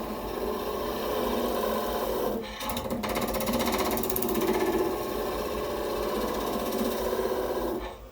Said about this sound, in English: This is a planing cut